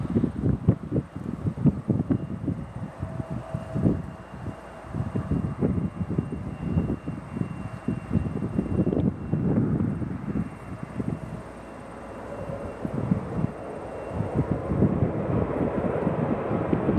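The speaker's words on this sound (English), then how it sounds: "That Streamliner taking off to DFW." A Streamliner airliner rumbles as it takes off from Chicago O'Hare bound for DFW, a broad, continuous engine roar mixed with gusty wind buffeting the microphone and surging over several seconds.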